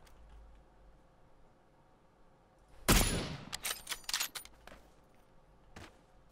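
Gunfire in PUBG: one heavy close shot followed by a quick cluster of several more cracks and a lone later shot, over quiet background.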